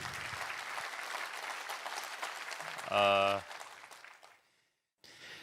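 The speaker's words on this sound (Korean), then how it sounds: "우리 하나님께 감사와 영광의 박수 올려드리겠습니다." A church congregation applauds steadily for a few seconds after a sermon, then a short musical chord rings out and the clapping fades away before a quiet pause.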